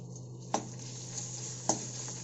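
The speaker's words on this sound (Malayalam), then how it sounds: "ഇനി അതിലേക്ക് നമ്മുടെ ഇഞ്ചിയും വെളുത്തുള്ളിയും അതുപോലെ തന്നെ പെരിഞ്ചീരകവും കൂടെ ചതച്ച് വെച്ചത് നമുക്ക് ചേർക്കാം" Crushed ginger, garlic and fennel with dried chillies sauté in hot oil for chicken curry, a quiet steady sizzle broken by two sharp scrapes of a spoon against the pan.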